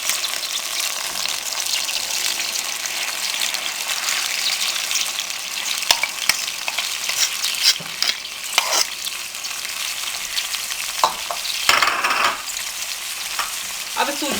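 Semolina stirred and roasted in a pan for guthli halwa, a steady dry scraping and sizzling hiss that runs throughout, with occasional louder spoon scrapes and no talk.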